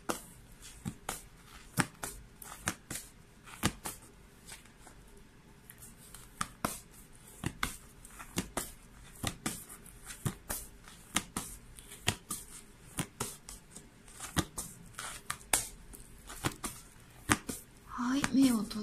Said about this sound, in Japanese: 目を閉じてシャッフル中です。